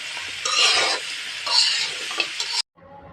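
Fresh olives are stirred in a hot pan, giving bursts of hissing sizzle and scraping that stop abruptly near the end.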